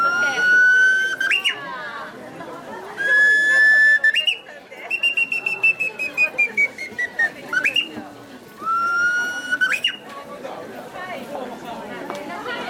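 A bamboo bird whistle imitates a Japanese bush warbler at a 2011 winter festival in Akaoka, Japan: long held notes ending in quick trills, repeated several times, with people chattering in the background.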